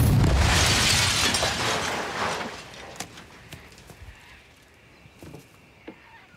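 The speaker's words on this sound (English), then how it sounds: "LPG is highly combustible, and even though the detonation would take place safely below ground" LPG detonates underground in rabbit burrows, giving a deep, loud boom that rolls and fades over a couple of seconds. Scattered debris thuds and crackles follow.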